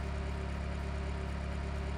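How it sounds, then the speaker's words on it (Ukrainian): Simulated car engine idling steadily in the Electude simulator game after a repair, a quiet, even low hum with a regular pulsing rhythm and no talk. "Двигун завівся"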